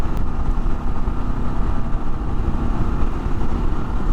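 A Kawasaki KLR 650 motorcycle engine while riding, a steady low rumbling drone with wind noise, continuous and fairly loud throughout with no talk.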